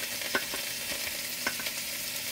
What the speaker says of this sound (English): I like when my meat is frying, it fries with some of the seasoning